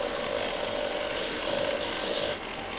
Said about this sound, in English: to refine these by using the drum sander